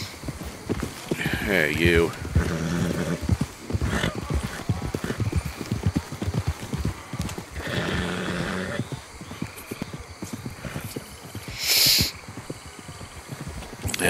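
Horse hooves clop and a horse whinnies in a cowboy video game, with footsteps and bursts of hoofbeats over several seconds while someone talks throughout.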